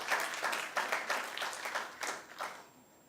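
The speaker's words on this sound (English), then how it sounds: "So can we give a second round of applause?" Audience applause for a conference closing panel, fairly close and moderately loud, swelling in uneven bursts for about three seconds before thinning out and fading.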